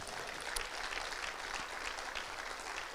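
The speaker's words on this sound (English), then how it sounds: "Give the Lord a clap praise." A church congregation claps in praise during a worship service, a steady dense wash of many hands sustained evenly and loudly for the whole stretch with no voices over it.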